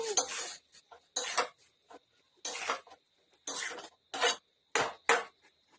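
Fried prawns go into a pan of boiled potatoes, heard as a series of short scraping, rattling clatters from a utensil against the pan, spaced apart with quiet gaps between them.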